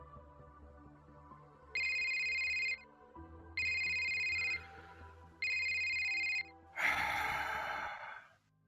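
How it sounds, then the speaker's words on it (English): A phone ringtone sounds in three even electronic bursts with short pauses between, followed by a breathy gasp-like exhale at the end. "he hears the familiar ringtone of his compact."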